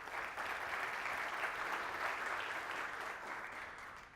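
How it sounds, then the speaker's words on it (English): Steady, moderately distant audience applause fills a conference hall at BOOSTMENA 2017, an even wash of clapping lasting about four seconds before tapering off. "Round of applause, guys, seriously."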